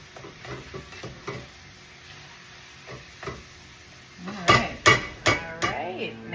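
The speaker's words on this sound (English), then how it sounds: "now that the turkey has cooked and we've got some good juice going" Ground turkey cooking in its juices in a pan, a soft sizzle under quiet scraping at first, then a run of five loud rhythmic clanks as the spoon strikes the pan.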